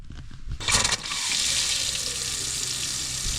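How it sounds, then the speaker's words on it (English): Water from a tap rushing through the pipes of a home off-grid setup, a steady hissing flow that begins after a few knocks and handling noises and carries on, close and fairly loud, to the end. "that was the water going through the pipes"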